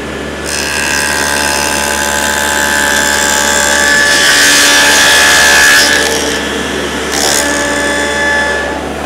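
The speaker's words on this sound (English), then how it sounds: "When you're ready to cut, turn the saw on. Let it reach full speed and make the cut." A table saw fitted with a dado head cutter runs at full speed and cuts through wood for a notch on a bench, a loud, steady whining drone with a rising rasp as the blade bites, close and continuous.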